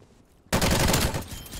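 Rapid automatic fire from the LAPA submachine gun in Black Ops Cold War multiplayer, a loud, dense burst that starts abruptly after a quiet moment and continues steadily to the end.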